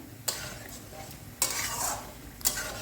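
Paneer is stirred into a simmering spinach gravy, three distinct scraping clatters of a spoon against the pot over a soft, steady bubbling sizzle.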